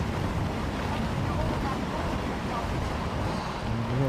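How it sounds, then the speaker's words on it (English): Wind gusts across an outdoor wheelchair tennis court at a masters tournament, a constant loud rushing buffet over the microphone that stays level throughout, with faint background tones late on. "And another one of those gusts come flying through."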